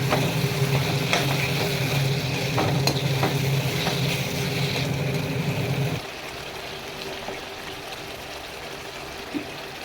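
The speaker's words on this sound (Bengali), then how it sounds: "ভাজা ভাজা করতে হবে তেল ছাড়া অবধি।" Chicken sizzles and is stirred in oil in a pan during slow cooking. The loud, close frying hiss has scraping stir strokes for about six seconds, then a quieter, steady sizzle continues alone.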